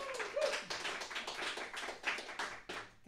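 An audience applauds a band with a moderate, fairly close patter of hand claps that swells and dips in uneven pulses.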